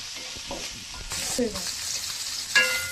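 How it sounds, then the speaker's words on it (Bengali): Shrimp with ginger-garlic paste are stirred in a hot pan, a dense steady sizzle with scraping stirs and a sharper clack toward the end. "চিংড়ি মাছগুলো দিয়ে এখন আমি একটু ভালো করে নাড়াচাড়া করে নেব।"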